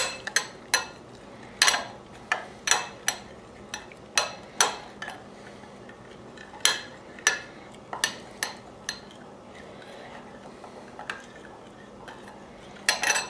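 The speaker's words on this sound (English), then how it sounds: "So add the cinnamon to the melted butter, stir that in." A spoon stirs cinnamon into melted butter in a bowl, making a series of close, sharp clinks and scrapes against the side in an irregular rhythm, with quiet pauses between.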